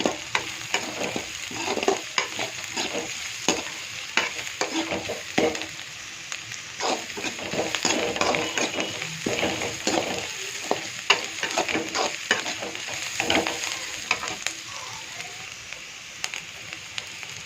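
Rice being stir-fried in a pan at home, with carrots among the ingredients: steady sizzling close by, broken by frequent scraping and stirring clatters throughout.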